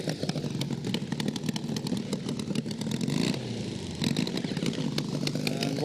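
Nostalgia drag racing motorcycles at a 2019 drag strip event, engines running loud and close with a rough, rapid mechanical rattle that swells and dips as they rev.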